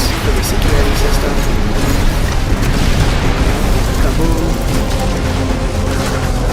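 A loud, sustained explosion rumbles and roars in the fast-paced shooter ULTRAKILL, a dense wash of booming noise lasting several seconds at close range, with a voice talking over it.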